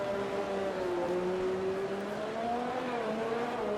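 A McLaren race car in an Xbox racing game, driving a wet track on intermediate tyres at the Dutch Grand Prix, gives a steady engine drone that rises and falls in pitch, held at a constant moderate level throughout with no talk.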